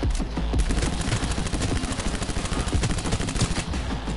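Rapid SMG gunfire from the Cyberpunk video game, a dense continuous burst of automatic shots rattling at steady rhythm for several seconds, loud and close with no talk over it.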